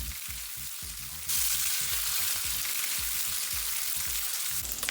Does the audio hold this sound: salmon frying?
yes